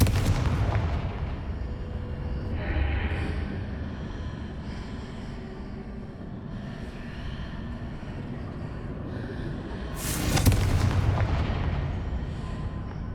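Confringo fire spell explosions in the video game Hogwarts Legacy, heard as a continuous low rumbling blast with a dull boom near the start and a louder crackling burst near the end, no talking.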